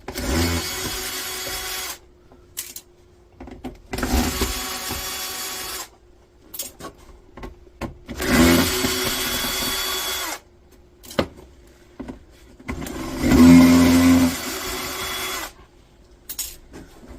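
A power tool whirs in repeated bursts of a few seconds each, separated by short silences, while the feet are removed from a Remington foot spa. The sound is close and fairly loud, with small clicks and handling noises between the bursts and no talking.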